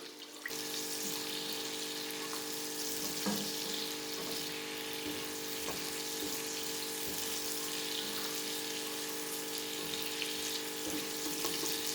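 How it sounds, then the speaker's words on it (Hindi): Green chilies with crushed garlic and ginger frying in a pan, a steady soft sizzle with faint crackles and occasional light clinks, continuous and quiet with no talking. "इसमें हरी मिर्चें और लहसुन अदरक का जो क्रश किया हुआ था वो डाल लेंगे और इसको अच्छे से भून लेंगे"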